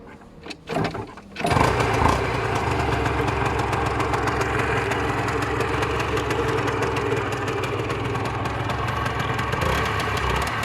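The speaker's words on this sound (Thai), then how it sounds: "เรามาฟังเสียงเครื่อง" A red-and-white Yamaha TZM150 motorcycle is started with a few short bursts, then settles into a steady, close, loud two-stroke idle that runs evenly to the end with no talking, its smooth engine carrying a faint drive-gear whine.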